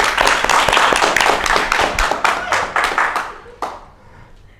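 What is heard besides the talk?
audience clapping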